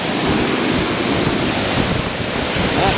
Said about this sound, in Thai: แรงลมที่เกิดจากน้ำตก ตกลงมาสู่พื้นนะครับ